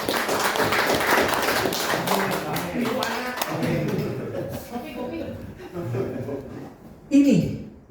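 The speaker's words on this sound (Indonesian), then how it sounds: "Nah, tepuk tangan ya." Audience applause at an Indonesian leadership training session: a dense patter of hand claps, loudest at the start and thinning out, mixed with voices talking and chuckling.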